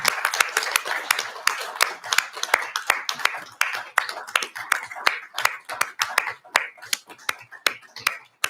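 Indoor applause at a public board meeting: many hands clap in a brisk, continuous patter with scattered sharper claps, fairly close, fading toward the end.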